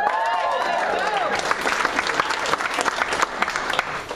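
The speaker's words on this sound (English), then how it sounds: "Was that applause for me being 77" At a comedy festival show, an audience breaks into clapping and scattered cheers after an elderly comedian's line. A voice is heard at the start as the applause builds, turning loose and uneven.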